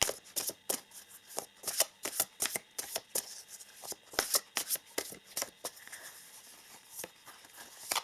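A deck of Journey Oracle cards is shuffled by hand in crisp, rapid riffling bursts with short pauses between them, close and fairly quiet.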